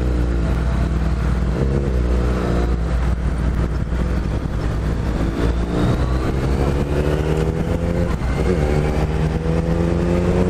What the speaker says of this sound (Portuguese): Esse fresco fica acelerando a moto